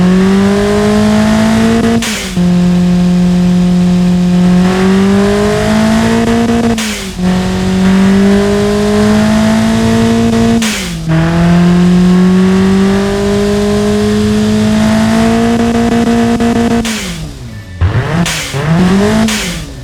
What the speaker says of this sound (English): Let's fire it up. As you can hear, it sounds very aggressive because it has racing camshaft in it.